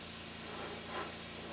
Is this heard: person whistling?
no